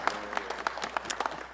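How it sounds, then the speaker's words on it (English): Brief burst of audience applause at the opening of a financial empowerment center, a scattered run of claps from a modest crowd, fairly close and unaccompanied by talk. "clap for her, please"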